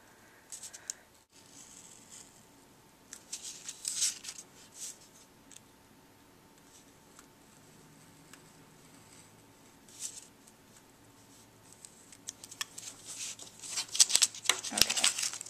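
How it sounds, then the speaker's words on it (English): An X-Acto knife trims along printed lines to cut a paper mask, making soft, intermittent scratchy slicing sounds. The strokes are faint and scattered, with a busier flurry of cuts near the end. "so I've got my X-Acto knife. I'm just going to trim right on these lines."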